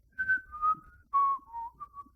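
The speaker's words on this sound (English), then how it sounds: "you hear a whistling on the wind" Eerie whistling carried on the wind in a live tabletop D&D session, a series of thin wavering tones that slide downward in short phrases, fairly soft and isolated.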